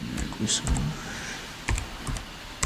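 Quick, light clicks of typing on a computer keyboard, a short burst of keystrokes close by with a voice speaking over them.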